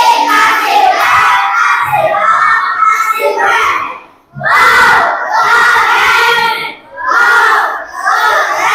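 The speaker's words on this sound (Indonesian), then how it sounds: "Tepuk tangan buat kelompok 1 dan 2." A classroom of children responds loudly to a teacher's call to applaud groups 1 and 2, with bursts of shouting and cheering voices in three waves, while clapping is hard to pick out from the crowd noise.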